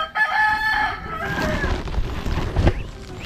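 A rooster crows loudly up close, its long call rising and falling, followed by scattered clucking and rustling from nearby hens being moved.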